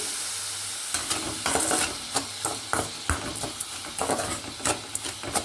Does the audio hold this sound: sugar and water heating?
yes